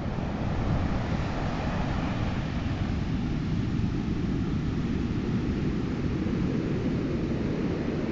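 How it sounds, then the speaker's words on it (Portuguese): Steady, dense roar of ocean surf at Praia Seca beach, Araruama, Brazil, with wind rumbling against the microphone, continuous and loud throughout with no distinct individual breaks. "barulho do mar. Ele tá cantando."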